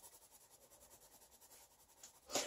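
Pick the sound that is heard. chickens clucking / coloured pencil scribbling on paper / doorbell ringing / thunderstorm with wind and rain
coloured pencil scribbling on paper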